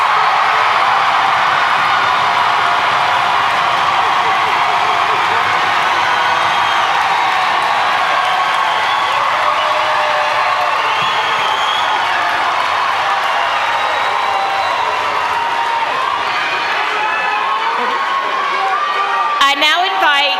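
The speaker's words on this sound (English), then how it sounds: "Can you give one more round of applause for these kids?" Graduation ceremony crowd applauding and cheering for the graduating students, a loud continuous roar of clapping, whoops and shouts that holds steady for about twenty seconds.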